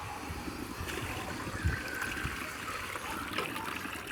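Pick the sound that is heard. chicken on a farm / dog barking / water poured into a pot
water poured into a pot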